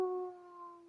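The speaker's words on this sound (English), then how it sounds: "My dog was howling." A dog howling: one sustained, tonal, wavering howl that is fairly faint and heard alone.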